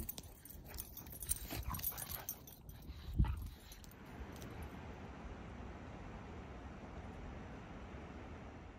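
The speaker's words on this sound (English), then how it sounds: "So much dog fun action going on here." Dogs moving and whimpering nearby with scuffling and a sharp thump, then settling into low steady background noise.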